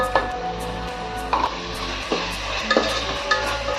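A spoon scrapes and stirs ginger, garlic and spices sautéing in a pan for mutton biryani, giving regular clacks against the pot over a steady low background hum.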